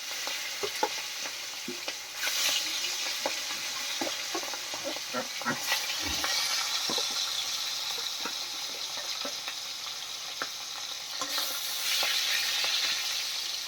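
Fish sizzling and frying in oil in a home kitchen pan, a steady crackling hiss with occasional stirring and spatter, close and fairly loud, with faint background voices.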